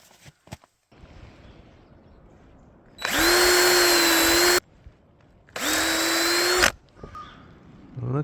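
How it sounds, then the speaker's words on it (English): Two loud bursts of a power drill whirring at steady high pitch, each a second or two long, separated by quiet shuffling, the drill being used as a hammer. "Who needs a real hammer when you have a drill?"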